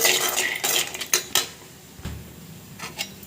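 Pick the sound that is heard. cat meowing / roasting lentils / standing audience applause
roasting lentils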